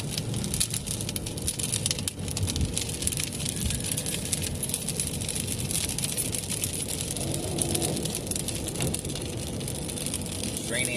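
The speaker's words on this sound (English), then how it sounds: "It's raining harder, guys. I don't know if you guys can hear the raindrops." Rain drums steadily on a car while driving on a cold day, a dense continuous patter over low road and engine rumble, fairly loud throughout.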